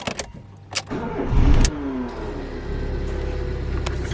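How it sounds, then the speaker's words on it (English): Car engine starting after the ignition is switched on with a check engine light showing: a brief cranking rumble that catches and settles into a steady close idle hum. "now when we start the car"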